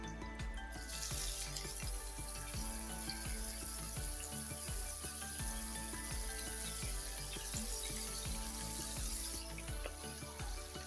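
Fish pieces frying in hot oil for fish karahi, a steady dense sizzle and crackle that stays loud and even throughout without talk.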